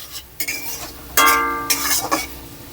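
Browned onion and sugar stirred in a pan with a spoon, a few scraping strokes and metallic clinks against the pan over a faint sizzle, close and fairly loud.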